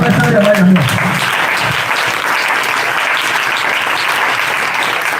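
Church congregation at a Pentecost jubilee service applauding and acclaiming the Lord, sustained dense clapping filling the room, with brief voices near the start before the steady applause carries on.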